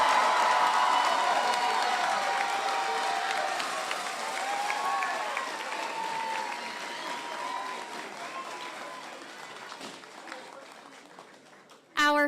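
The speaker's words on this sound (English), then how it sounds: "let's have a round of applause for the Pamlico County High School class of" A large audience at a high school graduation ceremony applauds for the graduating class: a dense, steady wash of clapping with some cheering, fading gradually over about twelve seconds before a sudden burst at the end.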